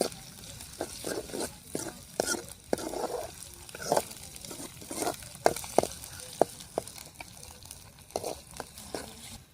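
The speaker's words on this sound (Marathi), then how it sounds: "त्याला मस्त आपण मिक्स करून घेऊया आणि थोडे भाजू देऊया." Roasted onion paste is stirred and fried in a pan, giving a steady sizzle broken by repeated scraping and stirring strokes, close and moderately loud, without speech.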